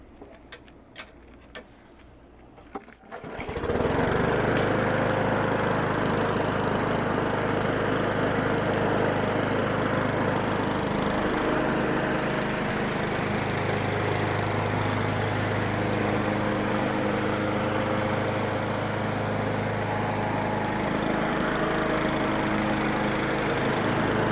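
Craftsman lawn mower engine after a carburetor repair, starting after a few ticking pulls, then running steadily and loudly at close range with no pause.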